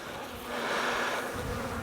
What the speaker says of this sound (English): So turn away from where you're working and just shake the bees away, tap them off